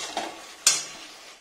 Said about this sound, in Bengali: মাছটা ভাজাটা মিশিয়ে নিলে হয়ে যাবে।